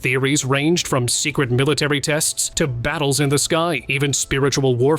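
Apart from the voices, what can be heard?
None of the usual background noises is heard.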